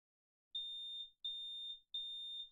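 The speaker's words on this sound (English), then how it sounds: "The fire alarm?" Fire alarm in a video game sounding three evenly spaced, loud, piercing electronic beeps, each about half a second long, clean and alone.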